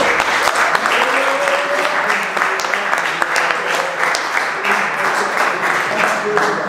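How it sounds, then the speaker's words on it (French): Loud, sustained audience applause at a boxing press conference for Fight For Africa, Diallo vs Joval III, honoring a reigning Cuban world champion; dense clapping throughout with faint voices and cheers mixed underneath. "je voudrais qu'on le félicite et qu'on l'applaudisse bien fort"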